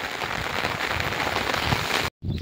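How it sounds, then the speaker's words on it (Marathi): Heavy rain pours steadily over farm fields in a dense, close hiss that cuts out briefly near the end, then resumes. "आणि पावसाचं चालूच आहे"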